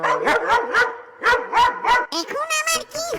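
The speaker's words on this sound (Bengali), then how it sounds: "কুকুরটি শাকচুন্নির পিছু নিচ্ছে আর জোরে জোরে ঘেউ ঘেউ করছে।" A dog barks in a quick series of sharp, close, loud yelps, followed by higher whining cries, with no speech.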